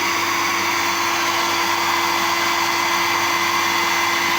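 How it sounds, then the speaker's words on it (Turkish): A hair dryer runs continuously at full power, a loud steady whooshing blow with a constant motor whine and no pauses. "fön makinesini açtım."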